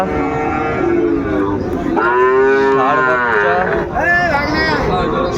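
Small bull and heifer calves at Ambari cattle market in Dinajpur low loudly and close up, with several drawn-out moos over a background of market murmur and faint talk.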